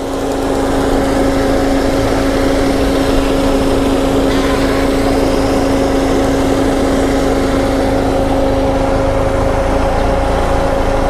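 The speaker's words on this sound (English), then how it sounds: "The fans are going because I've got the aircon on." Steady whirring of a 1994 Lancia Integrale Evoluzione 2's engine cooling fans running with the air conditioning on, a constant hum with a droning tone, close and unchanging throughout.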